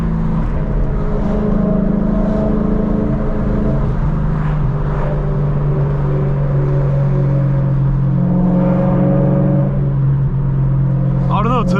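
A loud BMW E92 M3 exhaust droning steadily from inside the car on a canyon drive, engine note shifting slightly under load, with a person talking over it at times.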